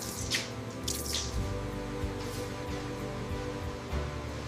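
Water rinsing down a cow in a dairy setting, a soft steady splash and trickle with a few brief sharper sprays, fairly quiet and without voices.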